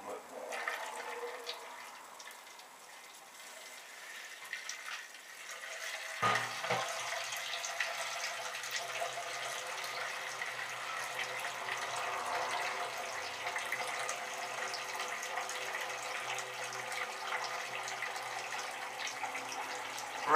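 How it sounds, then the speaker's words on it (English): Water pours steadily over grain to rinse it during an all-grain IPA homebrew. A quieter trickle builds to a continuous, fairly loud rush after a few seconds and keeps flowing to the end. "rinsing the grain"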